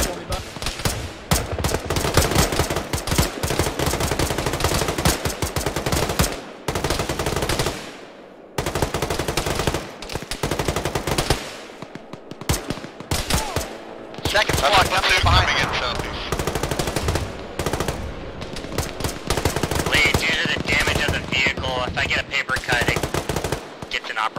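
Gunfire in the Arma video game during a ShackTac squad mission, loud sustained automatic bursts and rapid shots in dense volleys with short gaps, with voices talking over the shooting.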